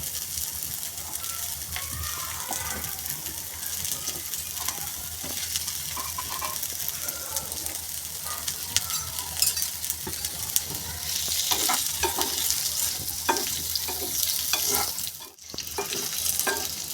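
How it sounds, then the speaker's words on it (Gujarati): Boiled sweet potatoes frying in hot oil for a sweet potato chaat, a steady close sizzle with occasional stirring scrapes, running without talk. "બાફેલા શક્કરિયા છે જે તેને તેલમાં આવી રીતે આપણે ફ્રાય કરવાના છે."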